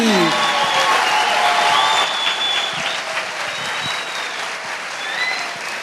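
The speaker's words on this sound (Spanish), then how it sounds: "El aplauso para Argentina y Uruguay." An audience at a payador folk-singing event honoring Argentina and Uruguay breaks into sustained applause, loud and dense at first and easing slightly toward the end, with faint tonal sounds drifting over the clapping.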